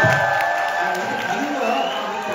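Audience at a Korean business presentation applauds and cheers, a loud continuous wash of clapping and crowd noise with a few whoops rising above it.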